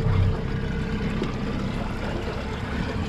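A boat motor on the Chesapeake Bay drones steadily at close range while fishing for cobia, a low rumble mixed with water and wind noise and no talk.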